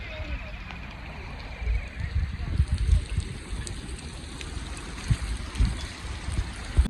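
Water of the Sabarmati River running in flood, a low rushing and churning flow with steady wind-like noise, moderately close, no clear voices over it.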